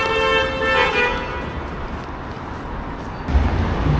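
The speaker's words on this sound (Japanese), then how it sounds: "クラクションの音にみんなが振り向いてたから" A car horn honks on a city street in Sweden, a sustained toot standing out clearly over steady traffic noise, with a heavier rumble of passing vehicles near the end.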